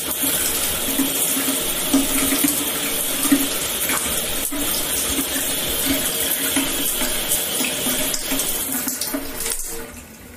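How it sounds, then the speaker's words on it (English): Shower water runs steadily and fairly loudly throughout, a continuous splashing hiss with a brief dip near the end, no voices. "Oh, the water is still running."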